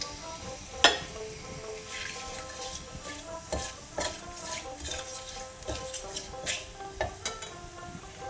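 Black cumin, two dried chillies and a bay leaf frying in hot oil, a steady soft sizzle broken by sharp clinks and scrapes of a spoon stirring against the pan, close and fairly quiet, with no talking.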